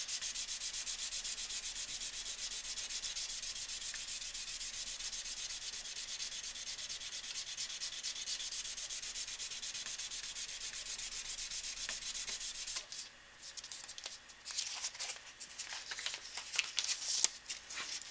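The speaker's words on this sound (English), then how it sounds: "Use this same stick for hand sanding blades." Steady hand sanding of a blade with a paint-stick sanding stick, a continuous dry rubbing scrape that runs evenly, then turns choppier and more irregular near the end as the strokes change.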